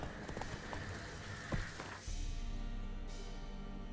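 Hooves clip-clop at a steady walking rhythm from a two-horse wagon in The Witcher 3: Wild Hunt, moderately close, then the scene shifts to a quieter low rumble.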